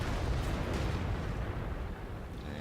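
A tank's shot slams into an enemy tank in World of Tanks, a dense, roaring blast of rumble and debris that stays loud across the whole moment with no talk.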